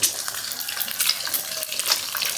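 Eggs fry in a hot pan for a Thai crispy egg dish, a steady close crackling sizzle with bright spattering pops throughout, no voices over it.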